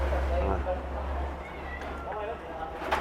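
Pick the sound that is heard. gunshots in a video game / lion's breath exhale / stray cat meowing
stray cat meowing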